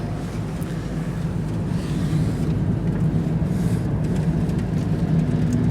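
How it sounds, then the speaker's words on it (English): A car drives through light snow near Campbeltown, its steady low engine and road rumble continuous and fairly loud, with faint wind buffeting the microphone and no talk. "Clayton's still doing a great job of driving in a little bit of snow"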